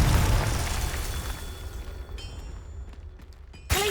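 Confringo fire spell explosions from Hogwarts Legacy, a loud booming blast at the start that rolls and fades, followed by lighter magical pops and a sharp burst near the end, with no speech.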